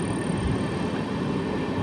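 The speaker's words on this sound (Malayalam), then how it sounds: "ട്രെയിൻ ഇപ്പോൾ കൊടൈക്കനാൽ റോഡ് സ്റ്റേഷൻ്റെ ഭാഗത്തേക്കാണ് എത്തിക്കൊണ്ടിരിക്കുന്നത്" The Rameswaram–Mangaluru Express runs slowly through hills near Kodaikanal Road, heard from inside a sleeper-class coach as a steady, loud rumble of wheels and carriage noise with no talk.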